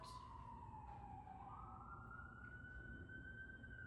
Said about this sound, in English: okay, a lot of sirens